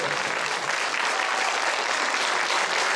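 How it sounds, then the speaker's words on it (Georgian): Audience applause at a Georgian folk concert, a steady dense wash of clapping from a large crowd, sustained and fairly loud throughout with no gaps. "ცოტა მეტი აპლოდისმენტები გჭირდება ამ ადამიანს"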